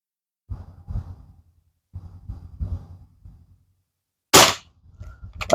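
A Beeman QB78D air rifle fires one sharp, loud crack late in the clip, after several seconds of quiet breathing and soft handling noises close by.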